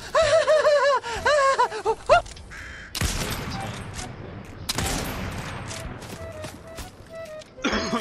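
Gunfire in Fortnite bursts out in loud, dense volleys, broken by gaps and brief pauses, with voices and game sounds around it.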